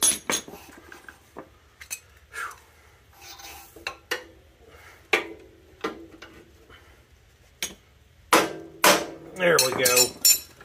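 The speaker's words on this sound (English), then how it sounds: "let's hit it with an actual hammer." Sharp metallic hammer blows strike irregularly on an old 1958 Cushman Eagle scooter, some single and some in quick clusters, with the loudest ringing impacts coming near the end.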